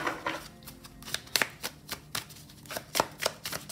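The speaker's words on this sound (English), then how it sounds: "And let us shuffle." Tarot cards being shuffled by hand in a steady series of crisp riffling bursts and soft slaps, close and fairly quiet, with no talking.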